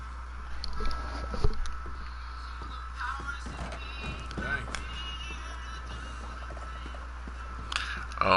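A horse moves around outdoors with soft hoof clops, and a short whinny rises once. The sounds are fairly faint and distant, against background noise and a few low voices.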